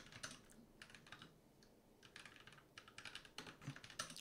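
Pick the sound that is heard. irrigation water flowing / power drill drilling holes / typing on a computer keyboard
typing on a computer keyboard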